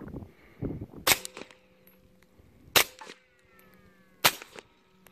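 A suppressed 9mm Beretta pistol with a dry can fires subsonic ammunition, giving three sharp, close reports spaced a second or more apart, with faint mechanical clicks between them.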